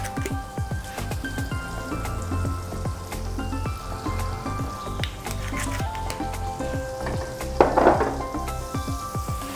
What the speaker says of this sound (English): I'm going to add a blob of butter in there, and as it's melting, I will add a little bit of olive oil